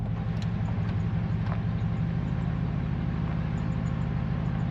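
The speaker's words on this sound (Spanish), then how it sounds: "Me encanta este ruido con este coche" A car engine idles or runs in a mountain setting, giving a steady, loud low rumble that holds constant throughout with a few faint ticks above it and no voices.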